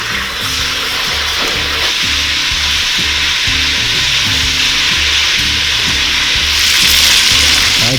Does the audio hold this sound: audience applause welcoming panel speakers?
no